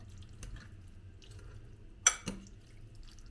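Juice trickles onto a plate of fresh herbs in short, faint drips, followed by a brief splash and a soft clink of a dish close by.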